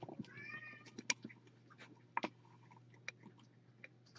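Several cats meow faintly at a distance in a quiet indoor setting, a few short calls scattered among soft ticks and shuffling, with a low steady hum underneath.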